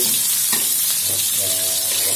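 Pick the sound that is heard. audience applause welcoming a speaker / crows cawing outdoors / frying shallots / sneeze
frying shallots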